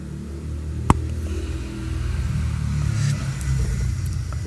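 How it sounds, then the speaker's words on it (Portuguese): A car passes by outside, its low engine rumble building and lingering steadily at moderate distance, with a sharp click early on and no speech. "Outro carro passou ali"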